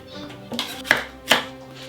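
A knife chops through a halved red bell pepper on a cutting board, with three distinct, close cutting knocks spaced about half a second apart over a quiet kitchen background.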